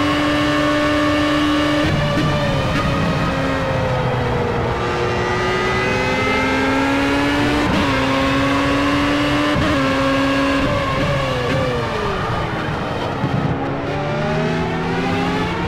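A Formula A race car engine in Project CARS howls at high revs down the Hangar Straight at Silverstone, loud and close, with steady rising pitch sweeps through each gear and sharp drops at the upshifts. No one speaks.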